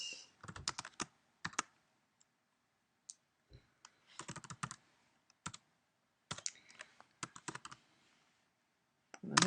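Bursts of computer-keyboard typing while code is written, with quick clusters of close key clicks separated by short pauses and no talking.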